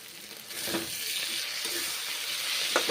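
Pointed gourd (potol) fries in a pan after sauce goes in, a steady bright sizzle with a few soft stirring clunks, close and alone without talk.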